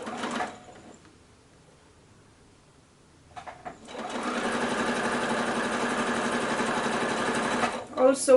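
A sewing machine stitches binding onto a quilted project in a fast, steady mechanical whir that runs for several seconds, after a brief burst of machine noise and a quiet pause with faint handling sounds.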